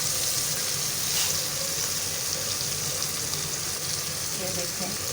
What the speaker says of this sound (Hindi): अब हम इसके अंदर कद्दू ऐड करने लगे हैं।